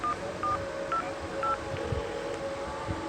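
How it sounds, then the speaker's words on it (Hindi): A string of telephone keypad tones, several short beeps at an even, quick pace over a faint hum. "उसने पिंकी को फोन मिलाया।"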